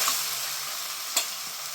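Mutton tossed into a pan of frying onions and green chillies, a bright, dense hiss of sizzling oil filling the short moment, with one quick utensil clack partway through.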